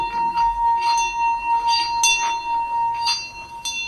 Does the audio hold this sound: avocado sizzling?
no